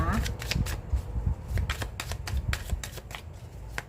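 Tarot cards are shuffled in quick, crisp riffles and flicks, close up and repeating, while someone talks over them.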